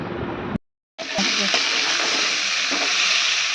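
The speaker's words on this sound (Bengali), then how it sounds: "আর একটু ভাজা হোক" Young jackfruit pieces frying in a pan in a Bengali village kitchen, a loud steady sizzle after a brief cut in sound, with stirring scrapes and clinks over it.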